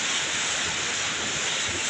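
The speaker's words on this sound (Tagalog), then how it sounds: "Ang lalakas ng alon ng Barangay Magtao." Strong ocean waves crash and surge at Naputad Beach in Barangay Magtao, a continuous loud roar of surf with wind buffeting the microphone throughout.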